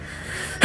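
A sudden close sneeze bursts out at the end of a short stretch of quiet room tone, aimed at someone during a street prank.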